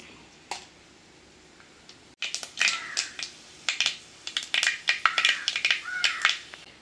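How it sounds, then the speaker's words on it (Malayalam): Mustard seeds are tipped into hot oil in a pan and begin spluttering. After a brief quiet start, a rapid, close series of sharp pops and crackles builds and continues to the end. "ചൂടായ എണ്ണയിലേക്ക് കടുക് ഇട്ട് കൊടുക്കാം."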